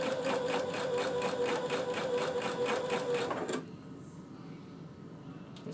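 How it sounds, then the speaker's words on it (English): A sewing machine hems chiffon fabric with a steady, rapid mechanical rattle and hum that runs close and loud for about three and a half seconds, then stops, leaving quiet room noise. "Rolling, turning, and sewing at the same time."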